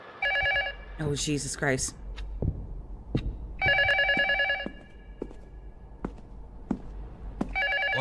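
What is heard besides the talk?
telephone ringing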